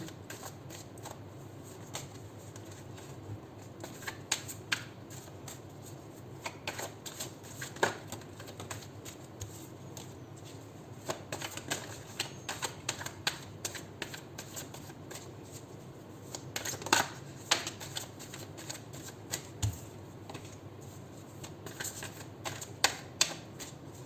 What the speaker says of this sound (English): We'll do 7 shuffles and then I'll pull out cards for you.